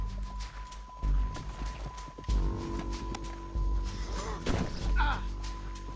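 Horse hooves in the video game Red Dead Redemption 2, a repeated clip-clop of thudding steps mixed with game sounds, a steady tone and bursts of voices.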